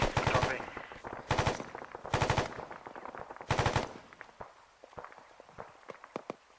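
Four loud, close bursts of automatic gunfire in the video game Arma 3, evenly spaced, followed by quieter scattered clicks and movement sounds.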